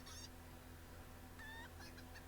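A chicken in a fantasy adventure video game clucks in two short bursts, one at the start and one about halfway through, against a steady game background hum.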